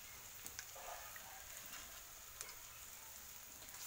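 Onions with ginger and garlic paste frying in a pan for a prawn and soybean curry, a soft, continuous sizzle with small crackles, fairly quiet and close.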